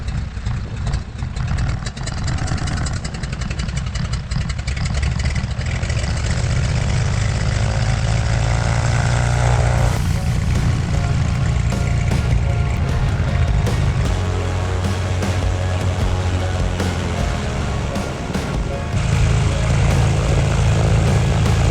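Propeller engine of a 1966 Cessna U206 droning loud and steady in flight across the western United States, a constant heavy roar with a slight shift in pitch partway through.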